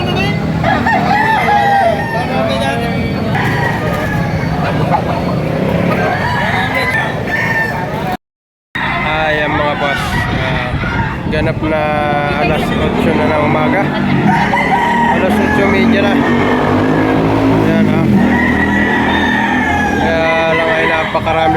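Roosters crowing and chickens clucking amid a busy, noisy crowd at a market in the Philippines, with people talking loudly throughout and a brief cut of silence partway through.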